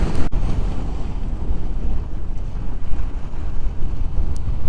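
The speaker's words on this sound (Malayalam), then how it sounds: "എന്ത് അത്ഭുതമാണല്ലേ ഈ കടലൊക്കെ" Sea waves wash onto the seashore under steady, loud wind buffeting the microphone, a constant rushing roar with no voices.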